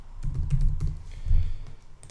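Keys clatter on a computer keyboard in quick irregular bursts of typing, close and clear, with short pauses between clusters of strokes while filling in an account registration form.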